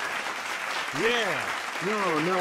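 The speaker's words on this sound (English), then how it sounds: "Save your clapping for later, folks." An audience claps at a podcast recording, a steady wash of applause that runs throughout while a voice speaks over it.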